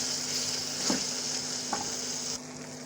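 Semolina and gond halwa with ground coconut and chopped almonds being stirred in a pan, a soft steady scraping with faint sizzle and a couple of brief spoon knocks, close and alone.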